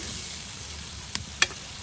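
Spice paste frying in a pan for rohu fish curry: a constant close sizzle with two brief sharp clicks of a stirring utensil near the end.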